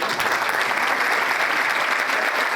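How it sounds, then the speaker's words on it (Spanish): Sustained audience applause at a 2017 talk event in Punta del Este, Uruguay, a steady dense wash of clapping from a sizable crowd, even in level throughout with no voices over it. "por favor, un aplauso"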